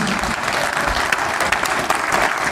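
Loud, sustained applause from a church congregation during a sermon, thick crowd clapping at full volume with a low murmur beneath and no clear speech.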